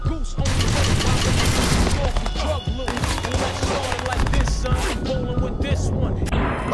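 Rapid bursts of automatic gunfire and heavy impacts in the video game Watch_Dogs, a dense, continuous barrage with someone talking over it.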